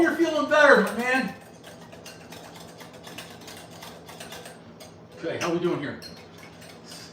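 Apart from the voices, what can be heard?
whisking batter in a bowl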